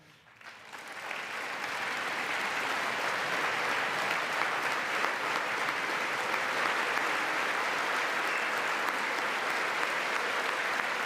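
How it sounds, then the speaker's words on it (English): Sustained applause from a large audience honoring Border Patrol agent Roberto Ortiz at a presidential address, swelling up within the first second and then holding steady and full for the rest. "I want to see if they're at least applauding him."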